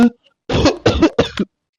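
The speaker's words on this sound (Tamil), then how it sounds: "இருமல் ரொம்ப அதிகமா இருக்கா" Three close, forceful coughs in quick succession after a brief earlier throat sound, with no talking.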